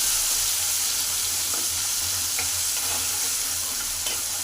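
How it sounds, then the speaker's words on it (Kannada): Chopped tomatoes fry in hot oil for an egg gravy, giving a steady, dense sizzle with faint stirring scrapes now and then. The frying stays close and loud throughout, with no voice over it. "ಟೊಮಾಟೊ ಎಣ್ಣೆಯಲ್ಲಿ ಚೆನ್ನಾಗಿ ಫ್ರೈ ಆಗಬೇಕು."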